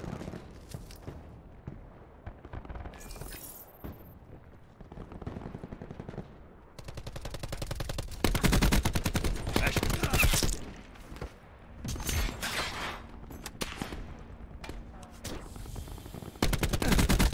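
Rapid gunfire in a Black Ops 4 multiplayer match, dense loud bursts that swell and break off repeatedly, with quieter stretches of distant shots between, no talking over it.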